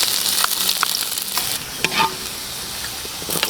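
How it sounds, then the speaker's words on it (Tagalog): Marinated beef hitting a hot pan for karne frita, sizzling and crackling steadily throughout with occasional stirring clinks and scrapes, loud and close. "Magigisa na tayo."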